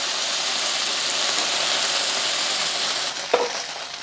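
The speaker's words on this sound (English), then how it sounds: "You can see all the oil splattering everywhere." Hot oil splattering and sizzling in a wok while Hong Kong style chow mein noodles fry crisp, a steady dense crackle throughout with a brief louder clatter near the end.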